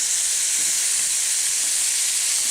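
Scallops sear in a hot pan, a loud, bright, continuous sizzle that stays even and unbroken throughout, close and with no voices over it.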